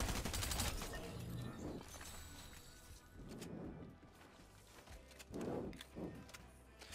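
Rapid shotgun blasts and gunfire from a first-person shooter video game rattle in dense, muffled bursts at moderate level, with crashing impacts through the clip.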